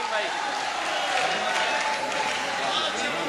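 An audience at a mushaira poetry gathering in Bhiwandi claps in a broad, steady wash, while a voice talks over the applause.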